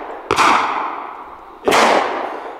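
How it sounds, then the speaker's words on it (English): Two loud, sharp gunshots from a Colt 1878 double action revolver ring out about a second and a half apart, each a close crack followed by a lingering decaying echo. "the 1878 is a double action revolver. And it'll shoot in both single action"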